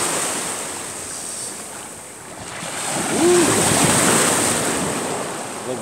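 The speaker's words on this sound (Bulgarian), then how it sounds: "Ето го в плажа." Waves wash onto a beach in a steady surging roar, swelling louder midway, with wind buffeting the microphone and no voices.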